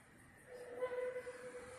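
A train numbered 49 approaching and passing, heard as a steady, building rumble with a faint sustained tonal whine running through it, moderately loud and with no voices.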